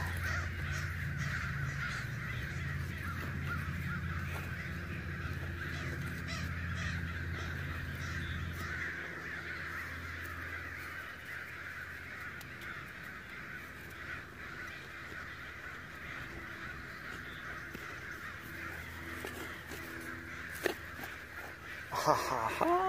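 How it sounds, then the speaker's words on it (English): Crows caw repeatedly in a territorial outdoor setting in Oregon, harsh calls continuing steadily at moderate distance while someone speaks occasionally over them. "Crows are going crazy"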